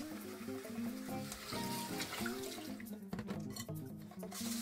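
Brown rice grains are rinsed in clean water, with close sloshing, swirling and trickling of water over the grains at a soft, continuous level.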